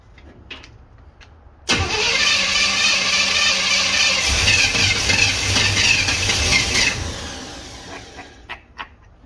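A 1964 Chevrolet Impala two-door hardtop V8, left sitting for 25 years, cranks briefly and then catches into a loud, rough, steady run that lasts several seconds before cutting off, leaving a few faint knocks behind.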